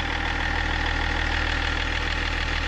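A Range Rover L322 engine idles steadily at close range, a smooth low rumble with a faint regular tick, with no voices over it.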